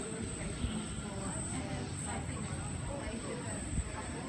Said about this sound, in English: here's a central service via the North Shore, probably, coming on platform